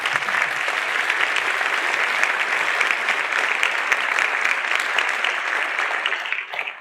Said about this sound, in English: Board members, please give them a round of applause.